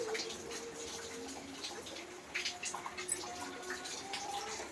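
Water running into a bowl on a kitchen counter to make cream of broccoli soup, a steady close trickle and splash that carries on throughout with faint drips.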